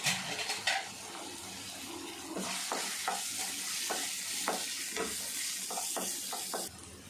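Onion, coriander and a dried chili sautéing in a pan for beetroot stir-fry, giving a soft steady sizzle broken by repeated scraping stirs of a spoon, fairly faint and close.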